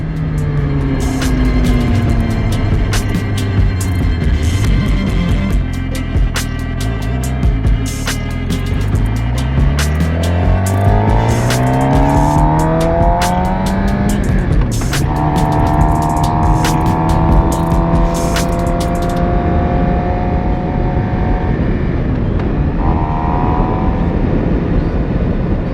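A car drives along a road in a real estate ride-along, with steady, loud engine and road noise throughout and gear changes as the pitch rises and falls.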